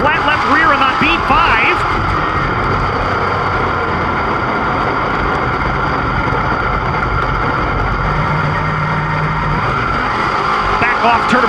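Dirt-track race cars roar past in a field, engines revving and fading in a steady drone, with one car running on a flat left rear tire and a crowd and announcer mixed underneath.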